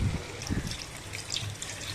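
Water is poured into a pan of crab masala, a steady splashing pour that fills the short stretch alone.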